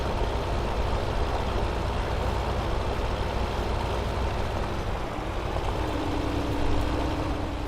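Tractor engine droning steadily while ploughing in Farming Simulator 2015, a constant low rumble with a slight tonal hum rising near the end, no speech.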